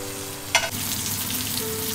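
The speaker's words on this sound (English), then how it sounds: "We seared both of the sides of the steak." Steak sears in a pan with rosemary and garlic, giving a continuous close hissing sizzle with a brief sharper crackle burst near the start, and no voices.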